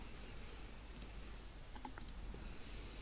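Faint keystrokes on a computer keyboard, a few scattered clicks in two small clusters over a steady low background hum.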